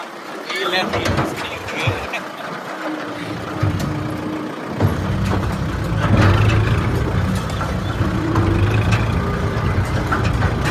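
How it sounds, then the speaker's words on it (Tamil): An empty tipper truck's diesel engine rumbles steadily near the road during a paddy collection trip, the low drone thickening after a few seconds and holding loud and continuous, with people talking over it. "அங்கே பாருங்கள் எம்டி டிப்பராக இருக்குது"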